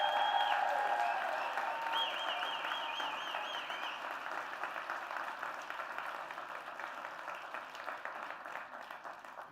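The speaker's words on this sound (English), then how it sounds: "let's give him another roaring round of applause" Audience applause fills an auditorium at a science festival: dense, steady clapping from a large crowd, loudest at the start and slowly fading over about ten seconds, with a few voices faintly audible early on.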